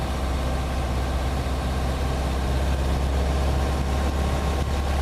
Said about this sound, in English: So now I'm going to do a quick run up here. I'm going to run it up.